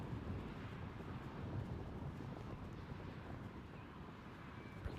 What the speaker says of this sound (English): You can probably hear the wind in the effects mics as well.